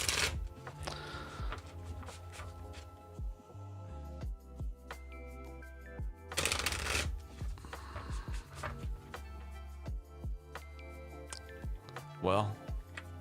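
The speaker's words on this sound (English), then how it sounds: "Allow me to shuffle, please." A deck of tarot cards riffles and shuffles in quick bursts, close to the mic, with soft background music and a voice talking intermittently.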